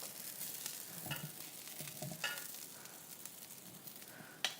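Meatballs browning in a pan give a faint, low sizzle with a few soft scrapes and taps as they are moved around, ending in a single brief knock.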